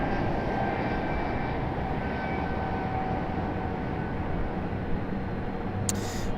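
Steady, loud aircraft engine drone at Raleigh-Durham International Airport, a continuous broadband roar that holds evenly throughout, with a brief sharp tick near the end and no voices.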